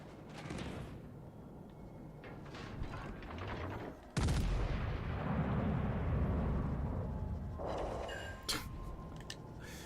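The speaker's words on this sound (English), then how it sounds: "we got to fire a third salvo" Warship artillery salvos in World of Warships: Legends boom out as heavy, loud blasts, with a big report near the middle followed by a long rumbling roar and scattered sharper cracks.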